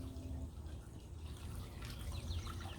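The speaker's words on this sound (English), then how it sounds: "So when I'm watering the pot, I can put some extra water on the hydrangea." Water trickles and splashes steadily into a flower pot in a summer garden, with extra water going onto a hydrangea. The pour is soft and continuous under faint outdoor background noise.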